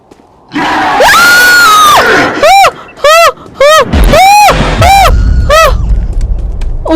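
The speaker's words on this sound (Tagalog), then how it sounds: "Ba't may sumigaw?" Loud, repeated high-pitched screams from a Roblox horror game, several sharp wailing bursts in quick succession, very close and dominant, with frantic vocal reactions mixed in.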